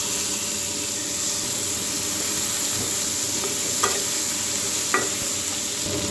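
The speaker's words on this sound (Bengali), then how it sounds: "তেল গরম হয়ে গেছে, মাছের মাথাগুলো ভেজেছি, এর মধ্যে আমি ফোড়ন দিয়ে দেবো।" Five-spice tempering, ridge gourd and pumpkin go into hot oil already used to fry fish heads, giving a steady close sizzle and hiss with a couple of faint clinks from a utensil.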